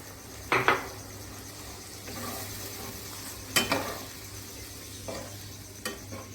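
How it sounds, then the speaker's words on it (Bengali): Coconut milk simmers with spices in a pan for a Bengali prawn malai curry, with a soft bubbling hiss throughout and a few sharp clinks of a spoon scraping the pan. "মশলার সঙ্গে দুধটা একটু ফুটুক"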